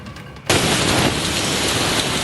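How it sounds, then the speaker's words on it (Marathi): Heavy monsoon rain pours down in Sindhudurg district, Konkan, a dense, steady roar of downpour that surges abruptly louder after a quieter opening and then holds constant. "सकाळपासून राज्यातील अनेक भागांमध्ये मुसळधार पाऊस कोसळतोय"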